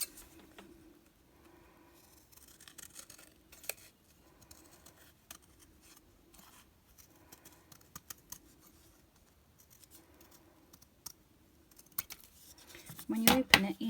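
Scissors cutting out a paper heart, with faint, scattered snips and rustles across a quiet room and a louder crinkle of paper near the end.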